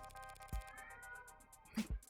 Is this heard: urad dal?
no